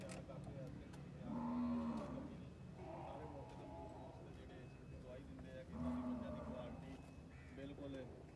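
A Nili Ravi dairy buffalo on a farm in Mandi Bahauddin lowing several times, long deep moos near at hand, with people talking over and between the calls.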